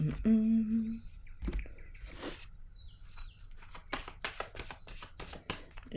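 Cards are handled and drawn from a deck close up, a run of soft crisp flicks and rustles, some rapid and shuffling-like, after a brief opening tone and a quiet whisper-like voice.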